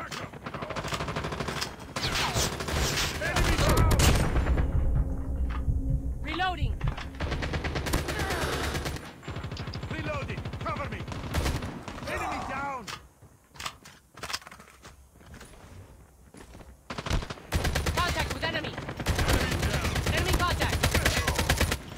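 Gunfire from the mobile video game Call of Duty Mobile comes in dense automatic bursts and single shots, loud and rapid, with brief quieter gaps between volleys.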